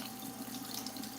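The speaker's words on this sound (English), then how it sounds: "I was rinsing blueberries." Water runs steadily from a kitchen tap while blueberries are rinsed beneath it, a soft, even stream with a faint hiss that continues unbroken and quiet throughout.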